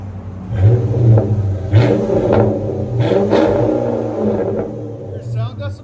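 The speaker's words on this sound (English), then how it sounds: "FLOWMASTER gives it a distinctive sound." An 2005 Dodge Magnum R/T with a 5.7L HEMI V8 and a Flowmaster exhaust revs repeatedly in a series of deep, throaty bursts at close range, with people talking over the engine.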